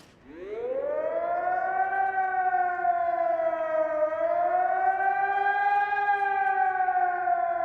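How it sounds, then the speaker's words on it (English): A seaside tide warning siren in Arnside sounds like an old air raid siren, rising quickly to a steady, eerie, wavering wail that holds loud and alone for several seconds. "The daily siren to warn modern bathers about the incoming tide"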